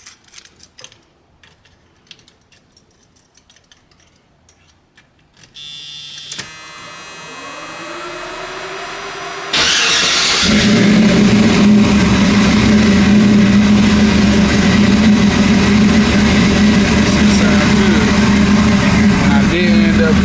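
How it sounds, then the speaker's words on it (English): LS engine swapped into an Oldsmobile Cutlass: a few quiet clicks and shuffling, then a starter crank, the engine catching and settling into a loud, steady idle rumble that carries to the end. "Crank it up so y'all can hear how it runs."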